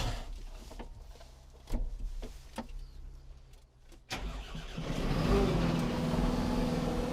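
A Valtra T234 tractor diesel engine cranks and catches after a few clicks and thumps, then settles into a loud, steady running rumble close by.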